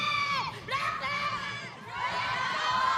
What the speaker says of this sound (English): Let's get them to cheer for Yue.